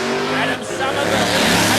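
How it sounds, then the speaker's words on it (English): A yellow HQ Monaro drag car at a no-prep drag strip in Warwick, Australia, roars loudly as it smokes its tyres off the line, with screeching tyres under a harsh engine blare and brief talk. "smokes the tyres off the line. The HQ is gone."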